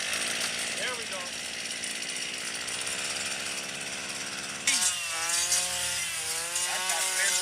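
A string trimmer whines steadily as it cuts a lawn, a continuous buzzing drone that rises in pitch and harshness toward the end.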